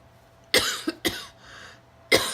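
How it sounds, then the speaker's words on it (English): A few sharp, close coughs in quick succession, separated by short quiet gaps. "you are just going to cough and cough and cough"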